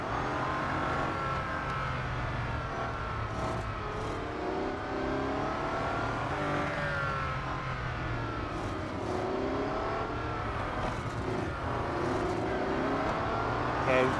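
Race cars lap a circuit in Real Racing 3, including a Bugatti Centodieci, with a constant loud engine whine that rises and falls through gear changes. Nearby cars jostle and pass in the pack.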